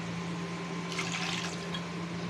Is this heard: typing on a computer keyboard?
no